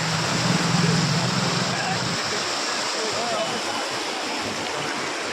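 Floodwater from a breached dam at Dihiburshut pouring into village after village, a loud, steady broadband rush of torrential water that fills the whole stretch, with a voice audible early on.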